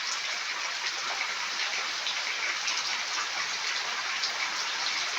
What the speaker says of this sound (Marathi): बघा पाऊस आलाय.